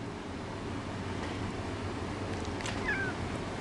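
A house cat gives a single short meow over a steady low indoor hum, fairly faint and with no one talking.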